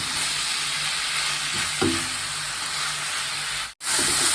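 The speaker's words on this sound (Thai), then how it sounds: "อันนี้เป็นผัดแบบแห้งนะคะติ๋มไม่ชอบเติมน้ำนะคะ" Holy basil and other ingredients sizzle and hiss steadily in a hot pan for a dry stir-fry without water, with a brief stir and clink partway through and no talking.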